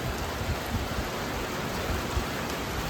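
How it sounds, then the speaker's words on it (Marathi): Dense, steady heavy rain pouring down, a continuous roar of drops with no pauses. "जबरदस्त पाऊस चालू झाला"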